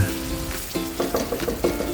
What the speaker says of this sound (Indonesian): paling penting kita tumis terlebih dahulu untuk bumbunya sampai matang dan tanak